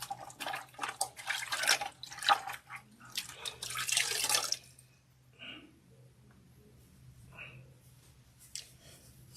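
Warm water splashed from a bucket onto the face during a rinse, several bursts of wet splashing and dripping up close, then quieter drips and trickles after the splashing stops.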